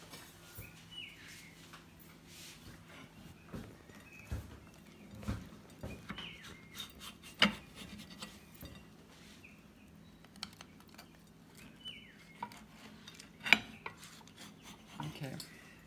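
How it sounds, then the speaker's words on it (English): A knife cuts a slice of Cape gooseberry tart with almond praline, with scattered scraping clicks and taps of the blade against crust and plate, faint and close, plus light chirping in the background. "Now let's cut a slice and see what the inside is like."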